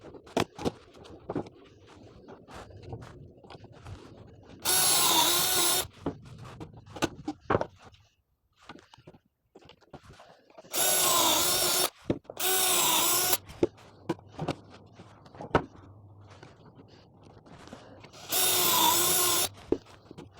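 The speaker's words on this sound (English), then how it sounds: "Next, we're going to drill the pocket holes in the 2x6s." A power drill bores pocket holes into 2x6 boards on a Worx Pegasus work table, four loud whirring bursts of a second or so each, separated by quieter clatter and handling sounds.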